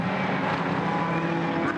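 GT race car, number 66, coming through during Blancpain GT Series Endurance pre-qualifying at Silverstone, a loud, steady engine roar with a sustained tonal whine, close and continuous over the short span.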